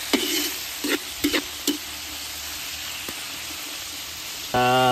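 Fish sautés in a pan for tumbong stew, a constant hissing sizzle broken by several sharp scraping stir strokes, ending with a tonal beep-like sound.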